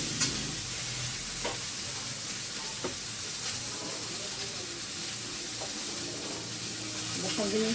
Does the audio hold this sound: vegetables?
yes